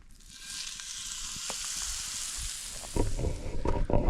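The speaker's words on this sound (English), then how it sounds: "So I'm gonna go ahead and put this steak on the cast iron." A steak sizzles as it lands on a hot cast iron pan at a remote campsite, a close, continuous hiss that swells louder near the end, with no talking.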